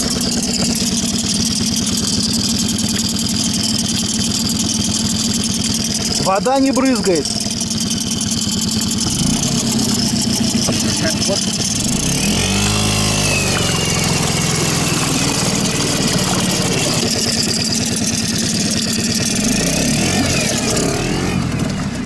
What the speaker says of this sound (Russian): Вот сейчас смотрим, работа на холостых оборотах.